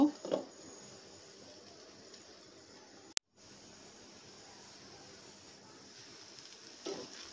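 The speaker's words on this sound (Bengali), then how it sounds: "এখন এই পাশটা খুব সুন্দর করে ভেজে নেব।" A semolina and vegetable snack frying in a pan, a soft continuous sizzle with faint crackle, steady and fairly quiet, with a brief sharp click near the middle.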